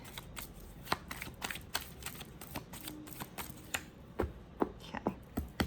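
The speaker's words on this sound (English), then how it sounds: "Tell me when to stop shuffling, please, Spirit, for Scorpio." Tarot cards are shuffled by hand in a quick, irregular run of crisp riffling snaps and soft slaps, close and fairly quiet over a faint background hum.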